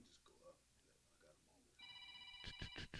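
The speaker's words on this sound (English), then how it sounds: "And there's the phone already." A telephone rings at an archery and gun shop, its steady multi-tone electronic ring starting partway through and running to the end over faint background talk, with a few louder bursts near the close.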